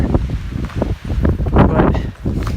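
Strong wind buffets a microphone on an Appalachian Trail mountain top, gusting in loud uneven bursts close to the mic.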